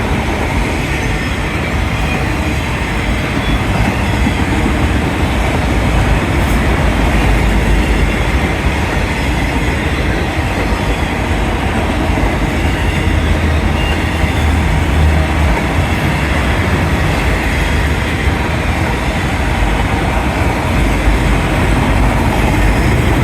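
A Union Pacific outbound manifest freight train led by locomotive 5465 passes at a street crossing, a loud continuous rumble of rolling freight cars with steady wheel clatter and occasional faint squeals, sustained throughout with no talk.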